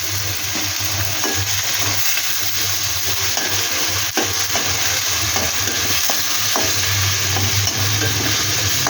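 Onion paste frying in a pan, a loud, steady sizzle and crackle lasting throughout with a faint low hum beneath and no talking.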